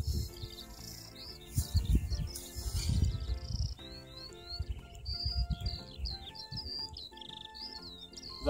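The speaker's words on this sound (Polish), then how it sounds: "Słyszycie skowronki?" Skylarks sing over a dried, freshly ploughed farm field, their high, rapid chirps and warbling trills running almost without pause, with a low, uneven rumble of wind and handling noise underneath.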